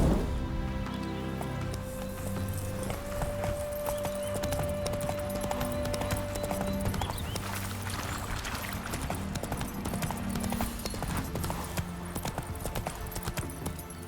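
Horse hooves gallop in The Witcher 3: Wild Hunt, Hearts of Stone. A fast, steady clip-clop runs loud and close throughout, over a continuous bed of game ambience and music, with no speech.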